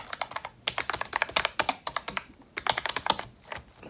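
Quick, uneven typing on the plastic matte-coated keys of a MOFii Phoenix rechargeable Bluetooth keyboard, a close run of sharp clicks and clacks with short pauses between bursts.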